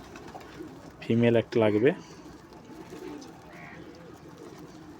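A dove gives two short, close, loud coos in quick succession, with a person talking quietly at times beneath.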